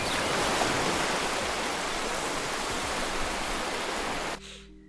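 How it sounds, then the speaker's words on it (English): Steady broadband wash of surf at Clearwater Beach, a loud unbroken roar of waves and wind that cuts off abruptly near the end into quieter hum. "and now we're at the beach."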